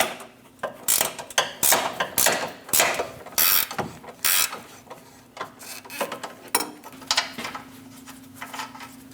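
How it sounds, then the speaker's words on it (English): A ratchet socket wrench with a 21mm socket works a front control arm bolt loose on a Dodge Durango, giving rapid bursts of sharp, close metallic clicks in an uneven rhythm, with no voices. "Using a 21mm socket, remove the bolt."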